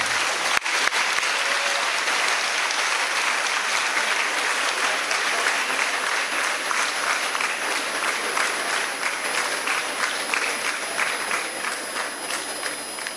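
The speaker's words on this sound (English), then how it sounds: "Give them a big round of applause." Sustained audience applause at a naturopathy and yogic sciences graduation ceremony in Ujire, a dense, steady wash of many hands clapping throughout, fading slightly toward the end.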